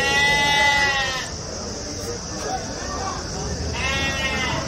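Rams bleat repeatedly at a crowded livestock market held before Bakrid, the strained, wavering calls rising loud and close at the start and again near the end, with steady crowd chatter and people talking throughout.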